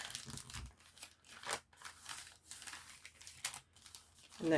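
Paper crinkles and rustles close by as it is folded for journaling, in several soft bursts of handling with brief pauses and a thump at the end.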